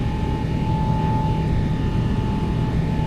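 Boeing 777-200LR jet engines at takeoff power in X-Plane 11, a steady loud roar with a constant whine running through it, no talk.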